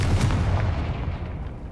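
A Confringo blasting spell goes off in Hogwarts Legacy: a loud, booming burst with a heavy low rumble that fades gradually over a couple of seconds.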